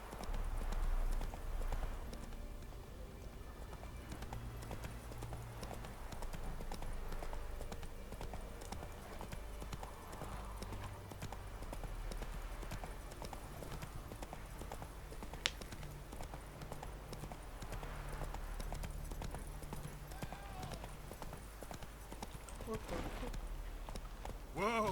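Hooves of Roach, the horse in The Witcher 3, clip-clop in a steady trotting rhythm throughout, close and moderately loud, with speech and game music underneath.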